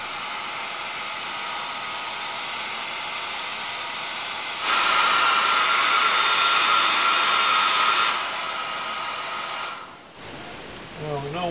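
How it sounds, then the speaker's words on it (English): A hair dryer drying a model railroad tunnel portal switches on with a loud steady whoosh for a few seconds, then cuts off, leaving a faint background hiss and a brief high whine. "I'll get out the hair dryer"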